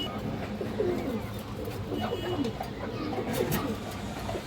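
High-flyer pigeons, Rampuri and similar breeds kept for sale, coo softly and repeatedly against a steady low background hum, with some faint rustling throughout.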